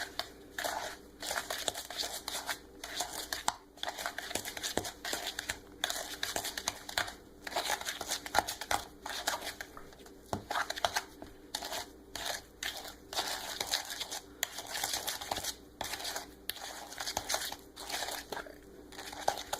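Butter is mixed into cinnamon roll filling with repeated gritty, crunchy scraping strokes in a steady rhythm, close and fairly quiet.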